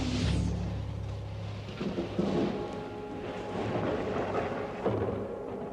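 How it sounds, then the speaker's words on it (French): Thunder rumbles from an approaching storm along a country path, a deep, rolling roar that swells and lingers for several seconds with rain-like hiss beneath it. "As-tu vu l'orage qui s'annonce?"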